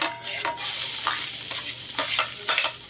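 Garlic frying in a pan as the first step of pork binagoongan, a bright, continuous crackling sizzle with scattered pops and stirring, close and fairly loud.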